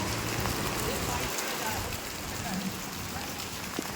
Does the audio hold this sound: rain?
yes